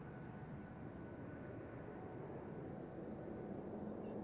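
A British Airways airliner takes off at Amsterdam Schiphol Airport, its engines giving a steady, broad roar that holds at an even, moderate level throughout, with no talking.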